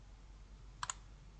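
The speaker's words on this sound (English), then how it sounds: "You just click on OK." Two quick computer mouse clicks on point-of-sale software, close together and crisp against a quiet room hum, with no one talking.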